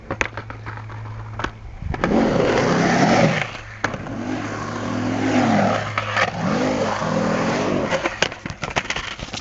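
Skateboard rolling and grinding a front smith grind on a ledge, with repeated scraping, clacking wheel and truck noise and several sharp impacts, heard fairly close over a steady background hum.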